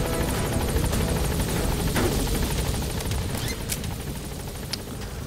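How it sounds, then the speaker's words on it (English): Helicopter in Metal Gear Solid 5, an upgradeable in-game aircraft, gives a loud, steady rotor roar that fills the whole stretch, with faint clatter and short bright ticks over it. "And the helicopter noise gets so loud."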